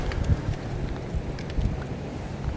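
Steady wind buffeting a nearby microphone, a low rumbling roar with gusty thumps throughout, no voices.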